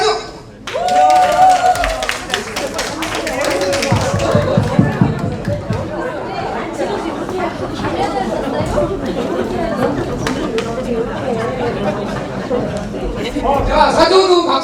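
An audience at a citizens' public forum on household waste and incineration facilities claps in a scattered burst, then chatter and a speaker's voice take over, with more clapping near the end.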